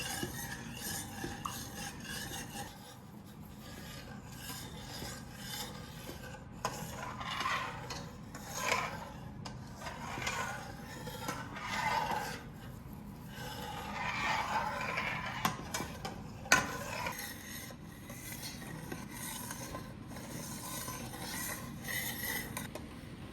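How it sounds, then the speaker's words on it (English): A spoon stirs pectin into prickly pear juice in a cooking pot, making a soft, continuous scraping and rubbing with intermittent louder strokes, fairly close and steady throughout. "Keep stirring the pectin and juice"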